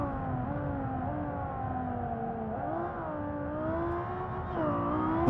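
Civetta Scintilla hypercar engine in BeamNG.drive, a continuous high, buzzing engine note that holds steady, dips briefly and then climbs again as the car accelerates, loud and close with no talking.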